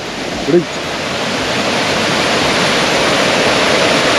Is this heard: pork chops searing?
no